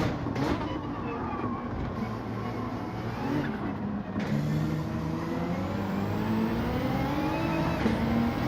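A Ferrari accelerates hard in Gran Turismo 7 during a daily online race at Spa-Francorchamps, its engine note droning and rising steadily through gears, loud and continuous across the whole stretch.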